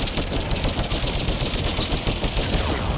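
Rapid gunfire in a video game, loud and continuous with dense overlapping shots and no voices.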